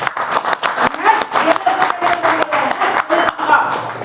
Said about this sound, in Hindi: ताली बजा लीजिए आप